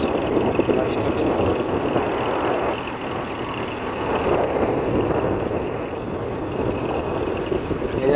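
A speedboat on the river route between Bhairab and Nabinagar rushes up from behind, a loud, steady roar of engine and churning water mixed with wind buffeting, continuous for the whole stretch.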